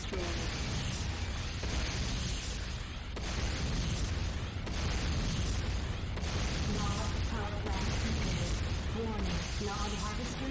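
Structures blowing up in the video game Command & Conquer: Renegade, dense repeated booms and crackling blasts over a continuous roar of battle, with voices and game announcements heard over the noise.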